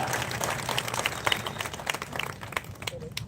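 A crowd claps at a municipal council election rally led by a former minister, giving a short burst of moderately loud, uneven applause that thins out toward the end.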